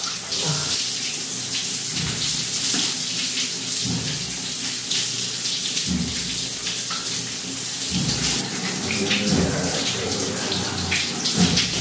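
Shower water runs steadily at a beach lodging in El Nido, Palawan, a loud, dense hiss of spray with occasional shifts in intensity as it strikes a body or surface, no talk.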